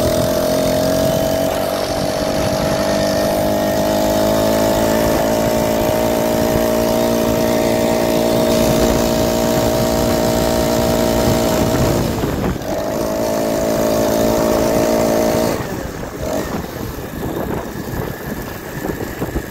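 A BikeBerry 49cc four-stroke motorized bicycle engine drones loudly at a steady, buzzing pitch with a strong harmonic whine, holding nearly constant for about fifteen seconds before abruptly dropping off and fading as the bike rides away.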